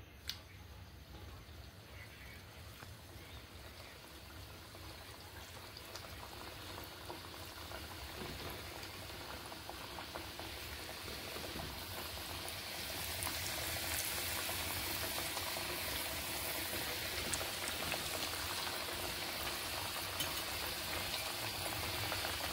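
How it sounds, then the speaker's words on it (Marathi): Soaked moong dal fritters deep-frying in a kadhai of hot oil, a dense continuous bubbling hiss that slowly grows louder and fuller, close and without talk. "एक एक करून आपण त्या पूर्ण तळून घेत आहोत"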